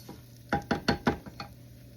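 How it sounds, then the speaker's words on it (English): Rice browning in a pan while being stirred, giving a handful of sharp clattering strokes in quick succession near the middle, with a faint background hum and no voices. "Meanwhile, I'm browning some rice."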